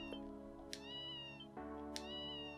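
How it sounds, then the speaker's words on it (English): A cat in the video game Ys Seven meows twice, short bright calls over a steady droning musical background, close and clear with no talking. "Cat!"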